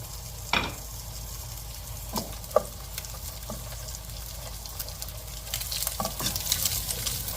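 Fried rice with shrimp, peas, carrot and onion stir-fried in a pan: a constant close sizzle with occasional sharp scrapes and taps of the utensil as the rice is tossed.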